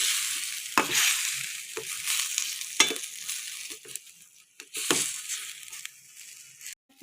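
A ripe tomato dropped into a hot pan for Italian-style spaghetti sauce, a hissing sizzle with several loud bursts and stirring scrapes that fade between them.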